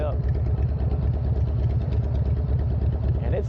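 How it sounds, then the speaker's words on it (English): Loud Harley motorcycle engine idling nearby, a steady low rumble with pulsing exhaust throughout, with talk over it. "This is a Harley. This shit is loud."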